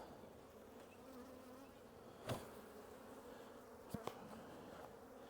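Honey bees hum softly and continuously around a hive box during spring hive preparation in Kentucky, a low steady drone with a couple of faint knocks or clicks breaking through, no voices present.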